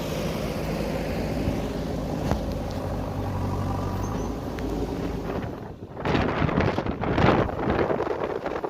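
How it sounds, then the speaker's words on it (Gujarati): Steady outdoor wind rushing against the microphone on a farm where a tractor is working, with stronger buffeting gusts near the end and a low engine-like rumble beneath. "અત્યારે જો પવન પણ વધી ગયો છે બહુ"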